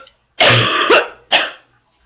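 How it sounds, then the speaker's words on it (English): A person coughs twice at close range, loud and harsh, the first cough longer and rougher and the second short, with silence around them. "I still have the cough"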